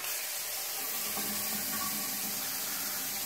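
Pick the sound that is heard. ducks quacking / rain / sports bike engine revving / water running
water running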